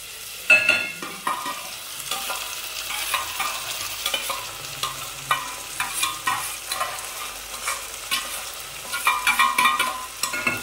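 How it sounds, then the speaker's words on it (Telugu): Fresh onion paste frying and being stirred in a pan for fish curry, with soft sizzling broken by repeated scraping stirs that land in an irregular rhythm. The sound is close and moderately loud, with no voices. "ఇప్పుడు ఈ పేస్ట్ వేసేసుకుంటున్నాను, ఆనియన్స్ వేగిపోయాయి కాబట్టి."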